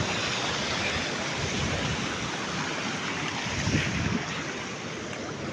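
Shallow river water runs steadily over rocks at the Karur falls near Aravakurichi, where the flow is low. It makes a continuous broadband rush with no talking.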